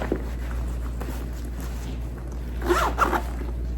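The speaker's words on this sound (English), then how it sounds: "And then there's a separate zipper for my laptop." Zipper on a bag's separate laptop compartment being pulled, a soft rasping run near the mic with a brighter burst of zipping toward the end, no talk over it.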